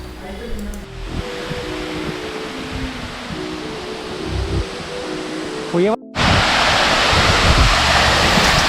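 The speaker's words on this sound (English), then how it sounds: "I had spent around 45 minutes just staring at the waterfall and the surroundings." Steady broadband rush of the Pogilla waterfall in the forest, continuous and fairly loud, with a brief dropout and a louder, closer roar afterward.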